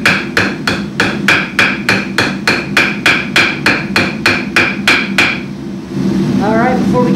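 A hammer strikes a metal rivet head on a handmade spatula, peening it with about fifteen sharp, evenly spaced ringing blows, close and loud, before the striking stops and a steady background hum continues.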